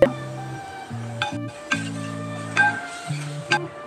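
Roasted semolina stirred into a jaggery filling in a pan, with scraping spoon strokes and soft metallic taps against the pan in an uneven rhythm, close and moderately quiet, with no talking.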